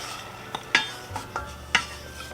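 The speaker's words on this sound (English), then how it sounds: "And give this a stir." A spoon scrapes and clinks against a pot of tomato sauce with sugar added, several sharp metallic knocks spaced irregularly over a soft simmering hiss.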